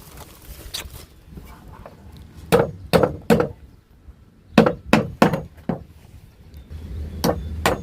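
Hammer blows drive nails into wood while a seat is built outdoors, coming in separate clusters of three to five sharp knocks with short pauses between them.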